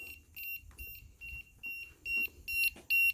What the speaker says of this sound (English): out comes the voltage alarm